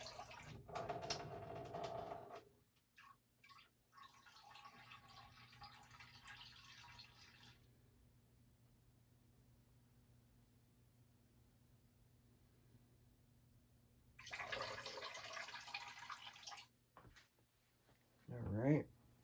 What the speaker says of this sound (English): going to pour some of the water out of the snuffer bottle,